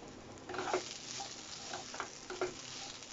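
Beetroot chechki with garlic and green chillies is stirred in a pan, with soft scraping strokes and a faint sizzle repeating a few times at low volume.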